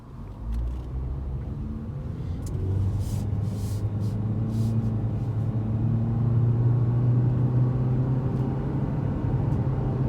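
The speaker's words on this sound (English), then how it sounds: "Let me show you acceleration here." A 2019 Toyota C-HR XLE accelerating from a stop, heard from inside the cabin as a steady low engine and road rumble that swells and rises in pitch, with no talk.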